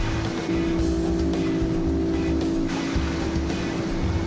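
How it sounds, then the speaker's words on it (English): Two outboard motors of equal horsepower, an Evinrude E-Tech and a Yamaha, roar together at full throttle during a boat tug-of-war on the water, a loud, steady droning engine hum. "Here are two engines with the same horsepower, but look at the difference E-Tech's tremendous torque makes"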